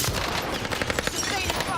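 Automatic gunfire in the video game Call of Duty Warzone, a rapid, dense stream of shots at close range, with voices mixed in over the firing.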